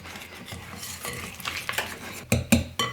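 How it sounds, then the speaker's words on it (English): Honey and butter being whisked together in a bowl for gluten-free chocolate sandwich cookie buttercream: soft repeated scraping strokes that build to a few sharper clinks of the whisk against the bowl near the end, with no talking. "just give your honey and your butter a really good stir"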